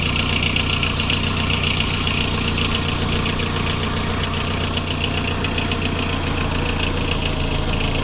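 A car engine runs steadily during a driving parking test, a loud continuous idling rumble with a slight knocking pulse, no voices over it.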